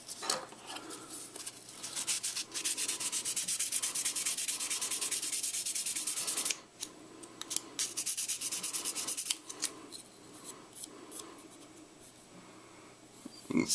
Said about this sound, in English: That 1200 grit sandpaper.